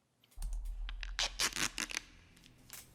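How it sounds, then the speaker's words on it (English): Duct tape pulled off the roll in several quick ripping bursts over a low hum, with sharp tearing strips clustered together and fading to quiet near the end. "Oh, I hear duct tape."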